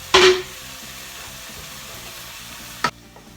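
Low-fat 5% fat mince sizzling in a frying pan as it is stirred, with a sharp scrape or clatter at the start and another near the end over a steady low fry.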